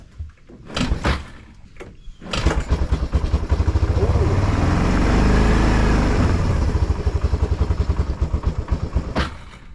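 A 1996 Kawasaki Bayou 300 4x4 ATV on full choke, after sitting unused for a year, cranks in a few short bursts up close, then catches and settles into a steady, loud idle that runs for several seconds.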